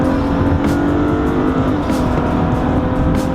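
A turbocharged BMW E46 accelerates hard, its engine roaring loudly and steadily throughout with a few sharp high-pitched bursts over the top.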